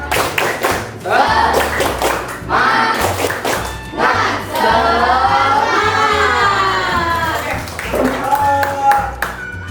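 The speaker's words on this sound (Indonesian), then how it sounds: "kita tepuk semangat dulu ya" A school class doing the tepuk semangat spirit clap, groups of sharp, rhythmic claps in repeated bursts alternating with children chanting and shouting together, loud and close.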